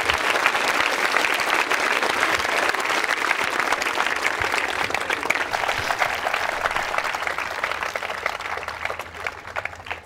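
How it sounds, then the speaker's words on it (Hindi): Audience of students applauding at a college quiz show in a women's engineering college in Ajmer, India: steady, dense, loud applause lasting throughout, tapering only slightly near the end. "अब तो तालियां बजाई दीजिए।"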